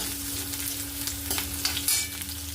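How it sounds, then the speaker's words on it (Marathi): Chopped onion and garlic sauté in oil in a kadhai with a steady close sizzle, punctuated by a few sharp stirring scrapes over a constant low hum. "तेलावरती आपल्याला परतून घ्यायचं कांदा लसूण"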